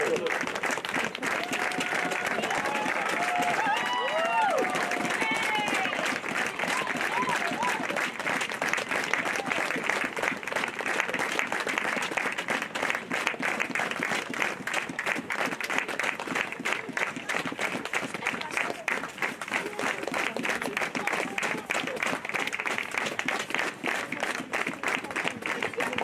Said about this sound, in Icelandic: Og það eiga sannarlega skilið gott klapp frá okkur öllum.